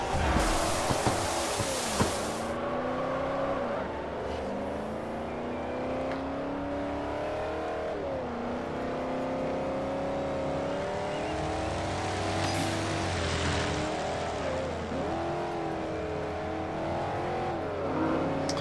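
Race car engines in Forza Horizon roar continuously, revving up and dropping back through gear changes, with occasional tire squeal, loud and steady throughout.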